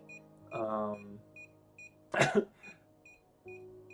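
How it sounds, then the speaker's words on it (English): A broken calculator gives short, evenly spaced high electronic beeps that repeat steadily through the clip, with a rougher burst of noise and a few low hums between them. "now it literally won't stop beeping"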